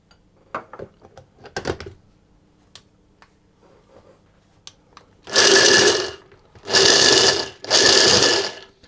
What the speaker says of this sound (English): I'm going to pulse those until the mixture has become quite finely ground